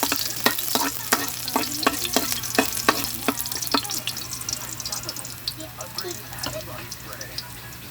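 Cooking oil heats in a pan, sizzling and crackling with sharp pops and clatters near the start, then settling into a softer fry beneath occasional speech.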